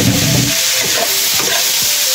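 Boiled pig's heart hitting hot oil with garlic and onions, a loud steady sizzle with stirring scrapes running throughout, no voices.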